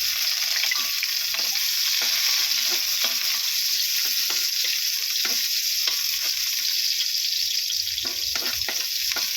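Garlic and onion frying in a pan for a Filipino milkfish dish, a loud, dense, continuous sizzle with a faint scrape now and then.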